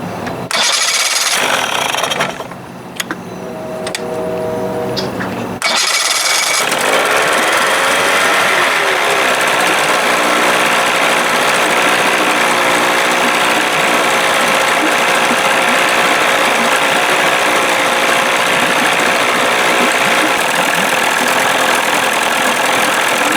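A 1983 Evinrude 25 hp outboard motor cranks with choke, catches after a few seconds, then settles into a steady, loud mid-pitched idle for the rest of the clip with no talking.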